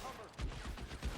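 Gunfire in L.A. Noire, a fusillade of shots thumping in quick succession across a short burst, dense low booms at steady loudness with faint talk mixed in.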